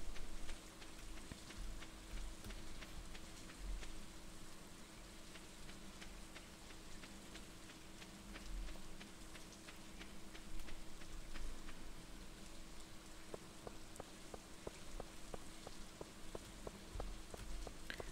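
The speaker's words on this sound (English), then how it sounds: "The rain is so calming in this game." Rain falls steadily in the farming game Stardew Valley, a soft, even patter with small droplet ticks scattered throughout, quiet and continuous with no speech.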